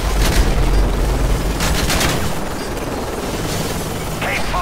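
Bursts of automatic gunfire aimed at an enemy helicopter in Call of Duty Modern Warfare 3 come loud and close in a few rattling volleys, with a low rumble underneath and no talking.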